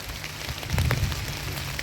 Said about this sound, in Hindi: यहाँ पे साथ ही साथ चालू हो गई है बरसात